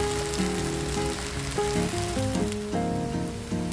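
A ragi and green gram dosa sizzles on a hot pan in a steady, fine crackle that runs under prominent background music.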